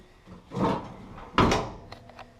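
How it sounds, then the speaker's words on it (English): Tailgate on a 1988 GMC S-15 pickup being opened, a dull metallic clunk followed by a louder bang as it drops, then a couple of faint rattles, close by. "Tailgate comes out."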